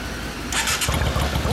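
A 2007 Yamaha DragStar 400 cruiser motorcycle with an aftermarket exhaust starts up nearby, a brief starter whir giving way to a steady low idle rumble.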